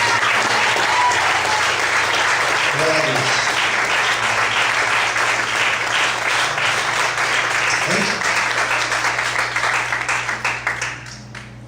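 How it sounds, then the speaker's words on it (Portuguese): Church congregation applauding loudly, a dense, sustained roar of clapping that holds steady and then fades out near the end, with a voice speaking briefly beneath it. "Vamos aplaudir bem forte, Senhor Jesus."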